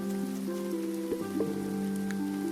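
Steady rain in a farming video game fills the scene with an even, continuous patter, while soft game tones chime over it.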